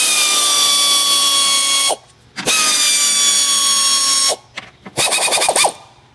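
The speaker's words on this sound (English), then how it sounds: "I'm going to break these three 15 millimeter nuts loose up on top of the strut." A power tool on a 2000-2011 Chevy Impala breaks loose 15 mm strut nuts on top of the strut. It gives two long, loud, high whining runs, then a quicker stuttering burst, with short gaps between them.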